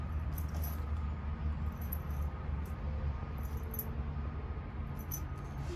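A ring of GM car keys jangles in short metallic bursts of clinking, fairly close and light, with no talking.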